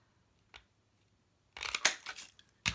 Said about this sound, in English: I am going to punch this out